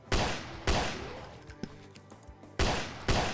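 Gunshots from shooting zombies in the video game Oncoming Death: a few loud, booming shots spaced apart with echoing tails and a couple of fainter pops between them.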